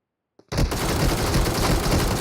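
Loud, continuous shotgun gunfire erupts abruptly after a silent start during a video game fight, filling the rest of the moment with dense, close blasts.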